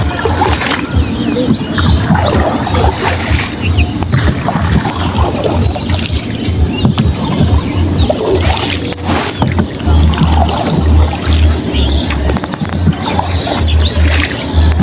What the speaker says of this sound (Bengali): দুর্দান্ত গতিতে এগুচ্ছে আমাদের নৌকা